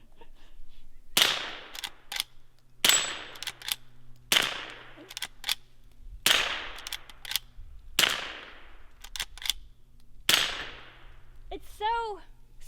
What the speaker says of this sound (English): This will be my first time ever shooting a lever action gun